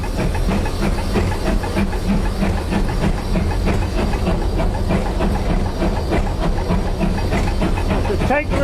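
Great Western steam locomotive running with a steady, loud roar of hissing steam and a rhythmic clatter of wheels throughout, as heard from the footplate.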